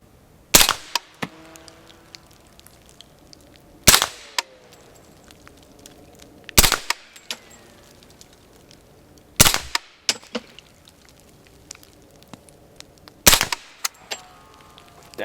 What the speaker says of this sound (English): We'll do another 5-shot group.